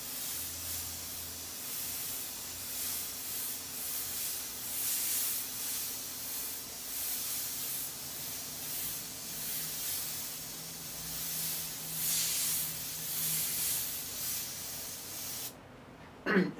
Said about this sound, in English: I'm just giving you tips on how to actually airbrush a shirt